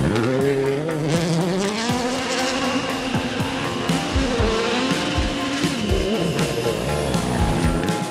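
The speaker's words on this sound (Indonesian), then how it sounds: "Wow, ada mobil balap," Race car engines whine with rising and falling buzzy pitch sweeps, tire squeals and sharp passes, loud and continuous for several seconds with no talking.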